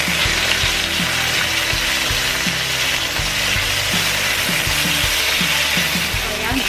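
Chicken pieces fry skin side down in a hot pan, a loud, constant close sizzle with occasional scraping from a utensil, no talking.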